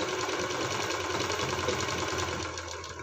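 A sewing machine runs steadily, stitching a half-inch seam on scrap fabric for a machine cover. The close, continuous whirring has a fast regular needle rhythm for about three seconds and eases slightly at the end.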